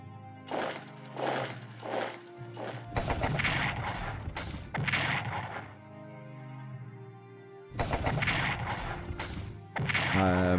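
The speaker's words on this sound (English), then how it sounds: "Defensive artillery, gonna use all my artillery ammo" Artillery fire in the World War 1 strategy game Strategic Command, heard as a series of booming, crackling gunfire bursts in irregular clusters, loud and close, with brief quieter gaps between volleys.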